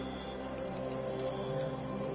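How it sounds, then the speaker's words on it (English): A continuous high, thin cicada drone that pulses slightly, holding steady throughout with a low background hum. "cicadas."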